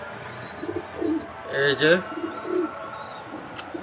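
A pair of racer Huma pigeons cooing softly in a loft, several low throaty coos spread across a few seconds over background hiss, with faint chirps and a person briefly speaking nearby.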